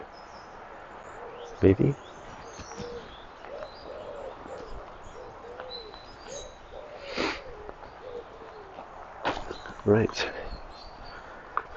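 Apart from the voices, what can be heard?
birds calling outdoors, cooing like pigeons or doves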